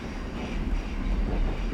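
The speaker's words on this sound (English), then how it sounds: "So I'm now using step 2 braking to slow down." Four-coach train in Train Simulator 2015 braking on approach to a platform on the Sheerness to Sittingbourne line, a soft, steady low rumble of wheels and running gear with faint rail noise.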